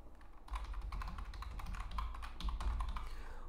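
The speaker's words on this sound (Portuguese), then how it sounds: "Você vai digitar aqui instagram.com." Quick, close taps on a computer keyboard run in a steady burst as a web address is typed, with no talk over them.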